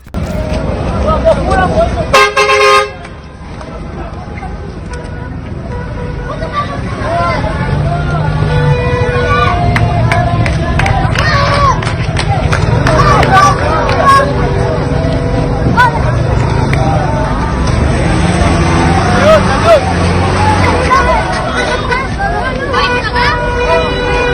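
A crowd on Israeli streets stopping vehicles and ambulances, with repeated loud car horn toots over a busy babble of shouting voices and engine rumble.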